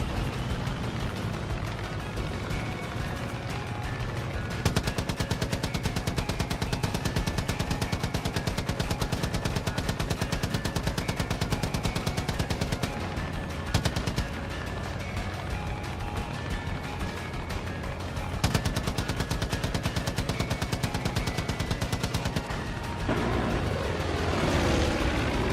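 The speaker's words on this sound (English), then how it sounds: "There go all the missiles." Missiles fire and explode in Far Cry 5, a long dense barrage of rapid gunfire-like bursts and roaring blasts with a few brief lulls, loud and sustained throughout.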